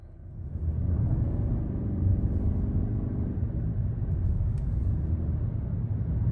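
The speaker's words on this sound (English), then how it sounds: "noise level is still very muted, even though you do hear something with the ECVT." A Lexus NX350h hybrid with a 240-horsepower powertrain and eCVT, accelerating: a steady, muted low engine rumble that swells slightly and holds, with no voices.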